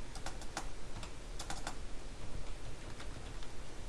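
Code is typed on a computer keyboard in quick irregular bursts of close, crisp key clicks with short pauses between words. No one speaks.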